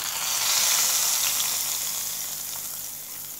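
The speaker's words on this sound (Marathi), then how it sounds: "मस्त फोडणी देऊन घेऊया" Hot oil tempered with asafoetida hisses into raw mango pickle, a loud, steady sizzle that swells early and then slowly fades over a few seconds.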